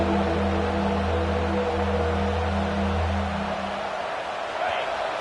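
Roaring crowd at a college football stadium, a loud continuous wash of massed voices cheering to pin the opposing offense deep, with a low droning tone underneath that fades partway through.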